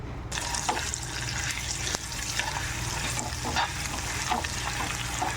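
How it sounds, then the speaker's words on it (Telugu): Oil is stirred into spinach chutney in a pan just off the heat, giving a continuous wet frying crackle with scattered soft scrapes and clicks of the spoon, steady and close with no voices. "నూనె అంతా ఈ విధంగా కలుపుకోవాలి పచ్చడి పట్టేటట్టు"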